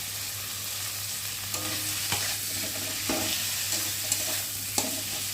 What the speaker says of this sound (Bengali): হলুদ গুঁড়ো, আদা বাটা, জিরে বাটা দিয়ে ভালো করে কষিয়ে নেব। আর দিয়ে দেবো ভেজে রাখা চিংড়ি।